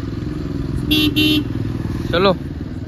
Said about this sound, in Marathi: निघाली एक गाडी